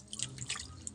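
Water dripping weakly from a tap on a laundry day, soft little drip ticks within a second over a quiet low background.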